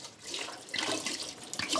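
Alcohol is poured out into a sink, a continuous close splashing trickle of liquid that runs steadily for about two seconds at moderate volume.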